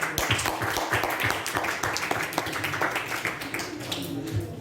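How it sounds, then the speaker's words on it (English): An audience at a Periyar YLP 2022 gathering gives a round of applause, a dense run of claps through the whole span with faint voices mixed in. "you all deserve a big round of applause"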